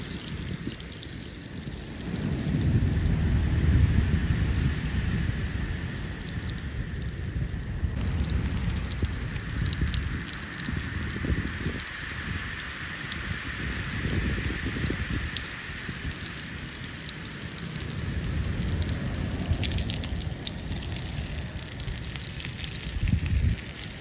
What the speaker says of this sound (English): when she starts to sizzle, just get the fish in.